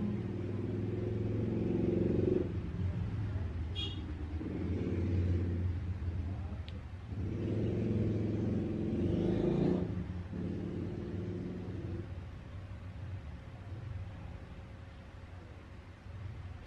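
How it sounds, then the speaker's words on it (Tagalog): Vehicles passing on the road beside a house are heard from indoors as low rumbling swells that rise and fade several times, with a faint engine drone between passes. "Kasi sa labas, may mga dumadaang sasakyan."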